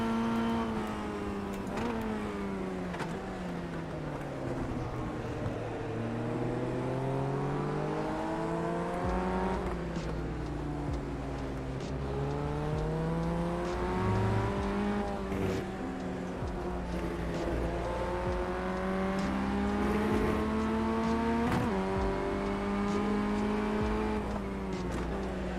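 A race car in the iRacing sim at Okayama circuit, its engine droning continuously with rising and falling pitch as it shifts through gears, steady and loud throughout with no talking.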